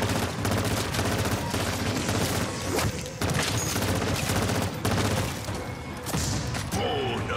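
Gunfire in the Modern Warfare 3 Zombies video game, a dense continuous barrage of rapid shots and booms that runs loud through the whole stretch with only brief dips.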